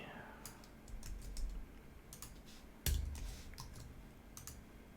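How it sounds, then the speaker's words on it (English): Typing on a computer keyboard, with quick irregular clusters of light key clicks, one sharper louder strike near the middle, fairly close but quiet, with no talking. "totally cannot type today."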